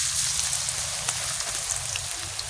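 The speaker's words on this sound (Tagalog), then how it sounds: "Nalagay ko na ang saging sa mantika. Iprito ko na siya." Banana slices fry in hot cooking oil, a steady, close hiss and crackle with scattered small pops, continuous and alone with no talking.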